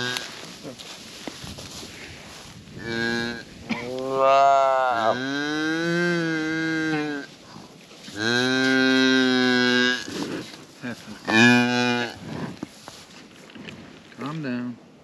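Cattle on a farm moo loudly several times, long drawn-out calls close by, with a person speaking between them.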